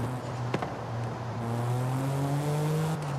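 A muffled, smooth stock exhaust on an M car in Forza Horizon 5, its engine drone climbing steadily in pitch as it accelerates, loud and close with a brief tap near the start.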